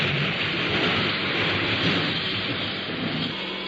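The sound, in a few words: rain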